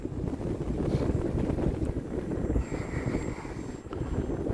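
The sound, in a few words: strong wind blowing outdoors while flying an RC plane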